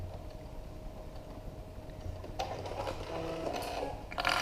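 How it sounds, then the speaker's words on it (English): A sewing machine backstitches fabric for a dust cover, a quiet mechanical whir that starts up partway through with short rattling bursts. "And backstitch and cut those threads."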